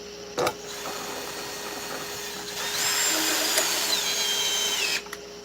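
A battery drill drives into a chainsaw-carved wood figure, with a steady high whine that rises in pitch and loudness midway and then cuts off, heard close with a short knock at the start.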